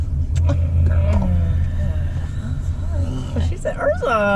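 Engine of a 2019 Mazda CX-5 in sport mode, a steady low rumble rising into a rev, heard from inside the car under continuous chatter and laughter from people talking over it.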